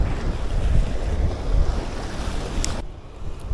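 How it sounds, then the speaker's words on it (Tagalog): A strong headwind buffets a fishing boat at sea: a constant roaring rush of wind noise over the microphone with crashing surf and water churning below, loud and unbroken, easing slightly at the end. "Hirap talaga pag salubong sa hangin eh."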